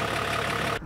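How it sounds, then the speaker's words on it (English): A diesel-swapped BMW E30 wagon's turbodiesel engine idles with a steady, rough mid-low rumble, close by, then cuts off abruptly near the end. "it sounded like a diesel truck"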